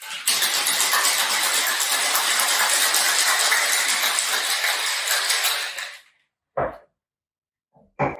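A steady, loud rattling of ice shaken hard in a cocktail shaker lasts about six seconds, then stops, followed by a couple of brief knocks.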